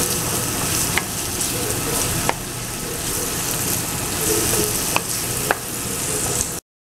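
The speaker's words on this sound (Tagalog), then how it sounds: "ginisa ko na yung bawang, sibuyas, kamatis" Shrimp fry in a pan with sautéed garlic, onion and tomato. A dense, continuous sizzle runs close and steady for about seven seconds, broken by a few sharp clicks of a utensil against the pan. No voices are heard.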